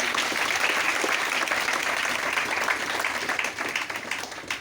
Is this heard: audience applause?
yes